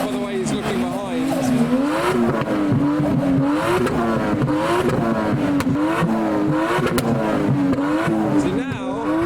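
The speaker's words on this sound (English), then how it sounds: "And now for something more familiar, a Toyota Chaser revving" A Toyota Chaser engine revving repeatedly in rising and falling surges at a Japanese car show in the UK, loud and close, with crowd chatter underneath.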